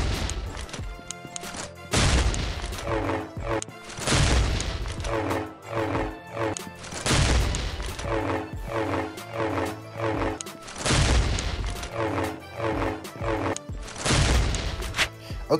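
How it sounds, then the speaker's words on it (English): Rocket jumps in the mobile shooter Pixel Gun 3D, a string of loud, booming blasts that come in close bursts over looping game music, with no talk. "lastly, the rocket jump evasion."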